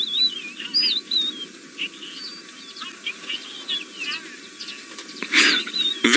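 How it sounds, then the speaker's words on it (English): A Fisher's sparrowlark calls in the Masai Mara, with thin, high chirps and twittering notes repeated over a quiet, faint background, among other birds, ending with a louder burst of sound. "The Fisher's sparrowlark, not finchlark."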